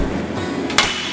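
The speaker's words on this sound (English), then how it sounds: "We can actually hit this thing with a hammer and it won't break." A hammer strikes a Prince Rupert's drop of toughened glass in a single sharp, bright impact near the end, following a steady background hum.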